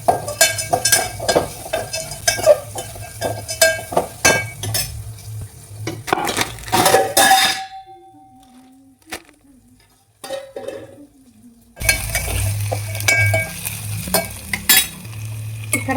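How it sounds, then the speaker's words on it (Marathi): Tomato frying in oil over a cumin and mustard seed tempering, with a spoon stirring and scraping the pan amid crackling sizzle, a brief quieter pause midway, then loud frying again. "ते चांगलं तेलामध्ये त्याला भाजून घ्यायचं."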